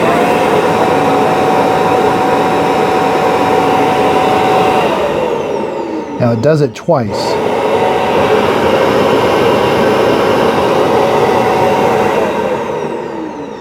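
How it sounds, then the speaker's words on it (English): Fan of an ECOVACS DEEBOT X2 Omni docking station hot-air drying the mop pads, a loud steady whoosh that dips briefly with a few clicks midway before resuming; a voice speaks briefly. "And then when it's done, it will do hot air drying."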